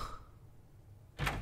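A door is opened indoors in a home, a single close thud-like knock of wood and latch arriving abruptly after a quiet stretch, loud and brief with no talk over it.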